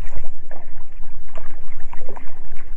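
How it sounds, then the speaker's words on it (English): A canoe paddled across water on public hunting land in Georgia, rhythmic close splashes and drips from the strokes repeating at a steady pace with no talking. "All right, so I'm paddling."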